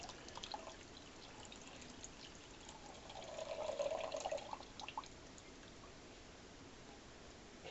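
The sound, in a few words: pouring broth into a pot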